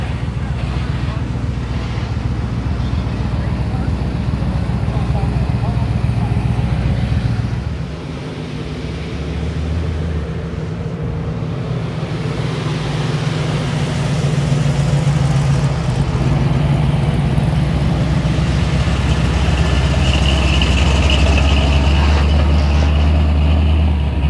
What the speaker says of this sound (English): Cars heading in.